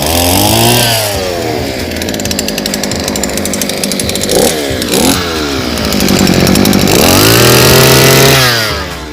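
A small two-stroke earth auger engine sputters to life and revs loudly up and down several times, a buzzing, chainsaw-like whine up close.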